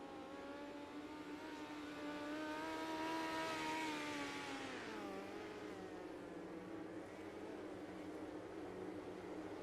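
Race cars at Knoxville circle the track in a field restack. Several engines drone loudly, one pitch climbing and then dropping away as a car passes.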